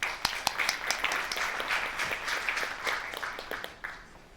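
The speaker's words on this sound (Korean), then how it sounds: "박수 부탁드립니다." Audience applause at a TV Chosun conference in 2015, a steady wash of many hands clapping with sharper individual claps on top, holding at moderate level through the whole stretch.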